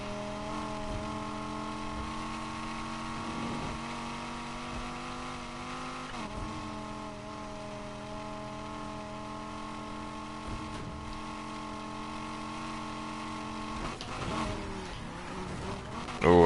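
A car engine in the racing game Need for Speed Heat drones steadily throughout, its pitch rising and falling as the car accelerates and shifts through gears, loud and continuous.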